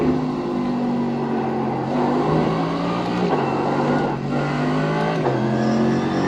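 Race car engine in the iRacing simulator, loud and sustained, with revs climbing and dropping through several gear shifts under hard throttle, alone with no voices.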